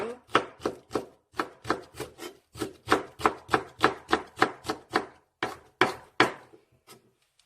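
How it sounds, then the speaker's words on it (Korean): A knife slices small green onions on a cutting board in a brisk, steady series of about twenty crisp thuds, close and clear, slowing and trailing off at the end. "작은 대파는 이렇게 그냥 송송송송 썰어주세요"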